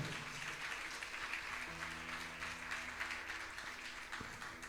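Church congregation clapping in worship, a steady faint wash of applause at some distance with a low sustained tone underneath and no talking.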